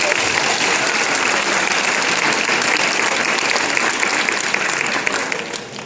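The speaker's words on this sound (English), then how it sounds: "give yourselves a round of applause for sitting through this and asking some questions" A town hall audience applauds at a CCEA event, a loud, continuous roar of many hands clapping that holds evenly for several seconds before tapering slightly at the end.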